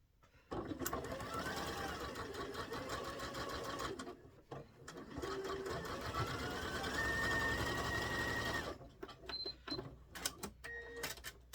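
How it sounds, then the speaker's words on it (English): A sewing machine stitches quilt pieces together in steady close whirring runs, pausing briefly around the middle, then several short stop-start bursts near the end. "And then just sew it together."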